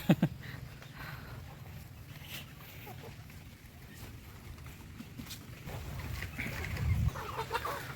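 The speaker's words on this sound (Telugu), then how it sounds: "ఈ కోళ్ళు కూడా ఉండటానికి కొద్దిగా ఇబ్బంది పడుతున్నాయి" Country chickens clucking around a rain-flooded poultry farm, scattered calls rising toward the end, mixed with background talk and outdoor noise.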